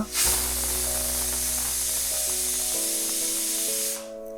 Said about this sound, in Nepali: तपाईले देख्न सक्नुहुन्छ पहिलो सिटी लागिसकेको छ